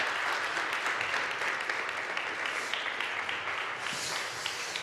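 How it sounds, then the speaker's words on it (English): An audience at the launch event of a consumer empowerment project claps continuously, a dense, fairly distant crackle of many hands that holds steady for several seconds. "A big round of applause for Lisa Jomi and Soledad Atienza."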